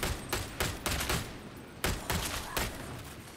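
Rifle gunfire in the video game Warhammer 40k: Darktide, a series of about eight sharp, loud shots at uneven intervals, some quick pairs and some with short pauses, each ringing out briefly.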